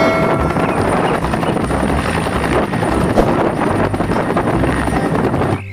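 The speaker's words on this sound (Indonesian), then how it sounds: "Wih, ada helikopter, teman-teman." Loud, continuous rotor thump of a helicopter, dense and steady throughout, with no speech.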